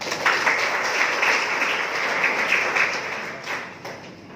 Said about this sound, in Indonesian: kita memberi aplaus dulu kepada anak-anak SMA 2 dan SMA 4 yang ambil bagian dalam ibadah kita hari ini